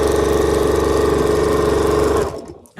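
A sewing machine stitches a quilt's binding in a loud, steady, rapid mechanical whir that runs evenly for about two seconds, then winds down and stops.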